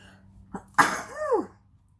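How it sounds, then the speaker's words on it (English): A single sneeze bursts out after a short intake of breath, sharp and close, followed by a brief voiced trailing sound. "I'm going to sneeze."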